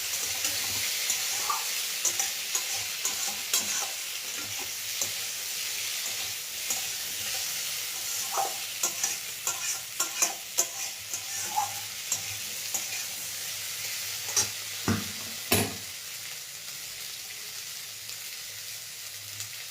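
A tomato mixture frying over a lowered flame while being stirred, a soft, steady sizzle with intermittent clicks and knocks of the spoon on the pan, fairly quiet and without talk.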